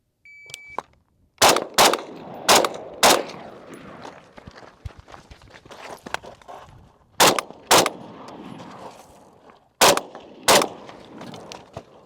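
Steyr AUG rifle fired at steel targets outdoors, with sharp loud shots in pairs and clusters separated by pauses, mixed with faint handling and movement noise.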